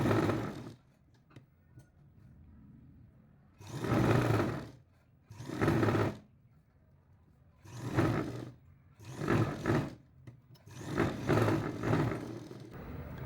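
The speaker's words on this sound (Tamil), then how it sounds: "அப்படியே சுற்றி ஒரு தையல் போட்டுடலாம்" A domestic sewing machine stitching around the sleeve of a lined jacket, running in six separate loud, close bursts of about a second each, with quiet pauses between them as the fabric is repositioned.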